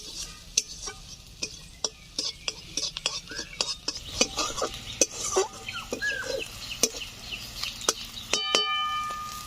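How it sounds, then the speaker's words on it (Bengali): Chopped onions and green chillies frying in a wok as a spatula turns them: a soft sizzle sits under repeated crisp metallic scrapes and taps, with faint animal calls from somewhere outdoors. "পেঁয়াজগুলো একটু ভাজা ভাজা করে নিচ্ছি।"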